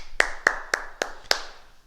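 A group claps in five crisp, evenly spaced bursts, like a class applauding itself together after a martial arts movement routine. The claps are close and sharp, with short pauses between them and no talk.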